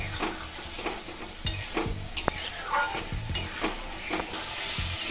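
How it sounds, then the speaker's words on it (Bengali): Ground spice paste for a green banana kofta curry frying and being stirred in a pan, a steady close sizzle broken by repeated scraping strokes of a spoon, with no talking. "এটা ভালো করে আমি কষিয়ে নেব।"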